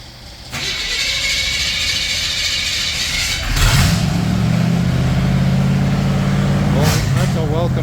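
A Bombardier engine cranks and catches after brake bleeding, then runs and revs with a steady, loud, close rumble. People talk over it.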